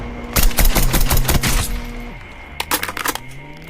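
Gunfire in the mobile shooter Call of Duty Mobile: loud, rapid automatic bursts with sharp cracks, a pause, then another shorter volley, over a steady game hum and faint tones.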